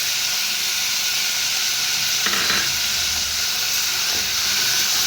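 Paneer sizzles steadily in a pan over a medium gas flame with soy sauce and chili flakes added, a constant bright hiss with a brief burst of stirring clatter near the middle, close and without talk.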